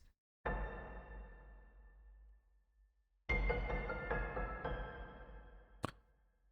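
Dark, muffled piano notes ring out and decay slowly, followed by a second cluster of chords, with a brief sharp click near the end.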